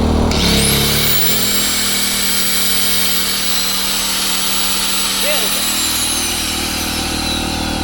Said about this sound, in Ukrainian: Перевіряємо, як він відреагує, коли одночасно запустимо болгарку і дрель.